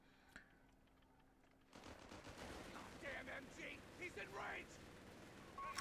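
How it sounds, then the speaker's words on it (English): Machine gun fire from a Company of Heroes 3 match on the Operation Torch map: after a quiet start, dense rapid bursts of automatic gunfire break out amid ongoing battle noise, staying loud and layered with a few sharper spikes. "Second MG."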